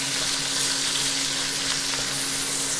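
Minced meat for pad kra pao hisses loudly and continuously in hot oil, a close, even sizzle with faint stirring and no voices.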